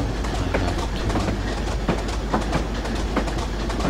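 A Class 25 diesel locomotive runs in Train Simulator 2016, its steady engine rumble laid over a continuous rhythmic clickety-clack of wheels on rail joints, loud and close throughout.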